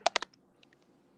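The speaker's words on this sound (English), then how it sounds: "Maybe somebody clicking on a keyboard." A short burst of three quick computer keyboard clicks, followed by a few faint, scattered taps, quiet and close.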